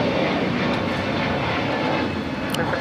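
An airliner takes off from runway 25 Right at LAX, its engines a steady, broad roar that holds loud and unbroken throughout with no voices over it.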